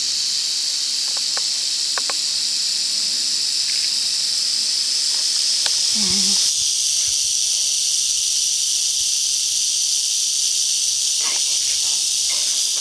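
Rattlesnake beside a hiking trail giving a continuous, dry, high-pitched buzzing rattle that holds steady throughout, with faint footsteps and rustling underneath outdoors.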